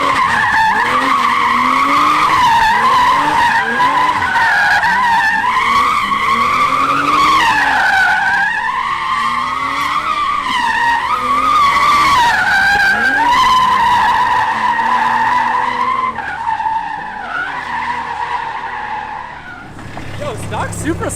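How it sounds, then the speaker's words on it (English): Stock Toyota Supra spinning a donut, tires squealing and skidding in a loud, sustained wavering screech over the engine that fades near the end, with voices talking beneath. "I will induce a donut right here."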